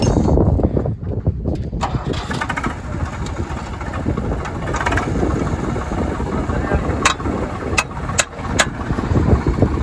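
A tractor engine idles with a loud, rough, continuous chug, punctuated by a few sharp clicks and knocks.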